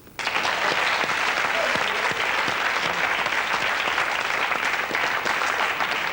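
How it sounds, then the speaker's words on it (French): Studio audience applause on the 1997 French TV game show Pyramide, a dense, loud, even roar of clapping that starts suddenly and holds steady to the end with no talk over it. "Mireille, qui est avec nous et qu'on peut applaudir,"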